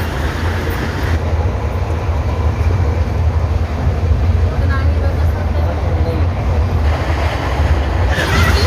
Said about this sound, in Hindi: Rajendra Nagar Durg south Bihar express. अब ये ट्रेन भी इलेक्ट्रिफाइड हो गई है।